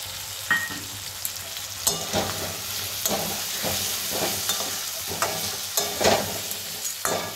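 Water chestnut curry sizzles in oil as a roasted spice mix is stirred in, with a steady frying hiss broken by a series of sharp spoon-scrape stirs, close and alone.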